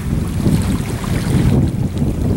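Steady rush of water washing against a shore, loud and continuous, mixed with blustery wind.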